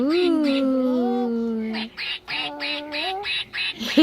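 A voice mimics a duck for a puppet show, giving a long nasal call followed by a run of short, rhythmic quacks, close and loud.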